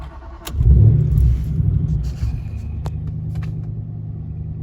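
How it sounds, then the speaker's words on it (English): A 2006 Jaguar XJR X350 engine cranks and catches, then settles into a steady, close, loud idle rumble after a mass air flow sensor replacement. "let's now start the car"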